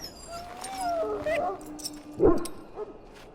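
A dog in the Dragon Age: Origins video game whimpers and yips in thin, wavering whines, then gives a louder sharp bark-like yelp, close and distressed amid faint background sound.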